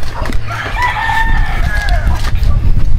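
A rooster crows loudly and close by in a Filipino home setting, one long drawn-out call rising and falling over a few seconds against background rustle and low noise.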